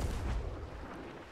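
A ship's cannon fires in the pirate game Sea of Thieves, a loud, close, broadband boom that fills the short moment with a rumbling low-end tail.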